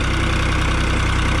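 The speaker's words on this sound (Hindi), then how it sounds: "चल भाई स्टार्ट होया है, 1700 RPM ट्रैक्टर चला हुआ हो" A 2007 New Holland 3630 Plus tractor engine idles steadily at 1700 RPM with a loud, even low-pitched throb and no pauses.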